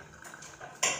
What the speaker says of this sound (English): So I'm going to cut some butter up into my sweet potatoes.